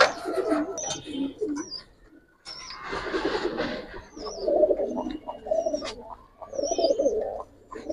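Giribaz flying pigeons at a pigeon farm coo in repeated, rolling phrases at close range, mixed with scattered chirps and rustling, with a short pause partway through.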